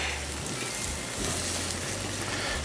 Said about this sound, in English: Now I'm just gonna give these a quick sear.